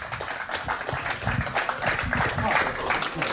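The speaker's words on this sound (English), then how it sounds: "Give them a warm applause!" Audience applause at a No Limits fight event between rounds, a dense steady clatter of clapping mixed with crowd chatter and a voice over it, loud and close throughout.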